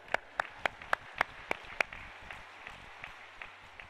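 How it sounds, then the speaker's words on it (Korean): A congregation claps in church during a fasting revival service, starting with loud, sharp, spaced claps that settle into a softer, steady patter of applause with no voices. "영광의 박수 올리겠습니다."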